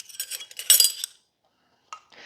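A measuring spoon of baking powder clinks against a container, giving a quick cluster of light metallic taps followed by two faint ticks after a brief pause.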